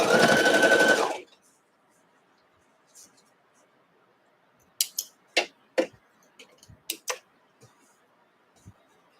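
A sewing machine stitches a quilt block seam in a short, steady whirring run of about a second, followed by quiet scattered clicks and light handling taps.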